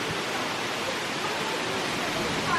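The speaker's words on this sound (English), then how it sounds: "they've just got so many gorgeous waterfalls, and so you get that sort of tranquil sound of that rushing water all the time" Waterfalls pouring into a hotel pool, a steady broadband rush of falling water, soft and unbroken with no voices.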